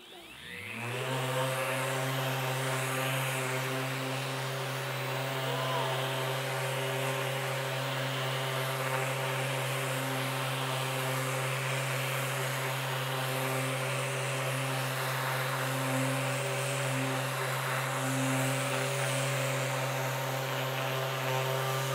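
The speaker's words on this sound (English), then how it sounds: "as soon as I turn that trigger on, the vacuum will kick in." A power sander and its attached vacuum, sanding Corvette paint, start up and run continuously, a loud steady whirring drone with a strong motor hum throughout.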